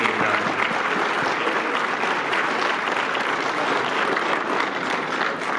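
An audience at a civic anniversary event in Calgary applauds volunteers with sustained, dense clapping that stays loud and even throughout, no speech over it.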